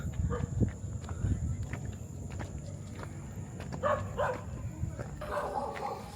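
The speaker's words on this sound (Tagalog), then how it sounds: "Ang daming kumakahol." Many dogs barking outdoors, with scattered yips and barks at varying distances over a busy background, some clustered near the end, while people can be heard talking nearby.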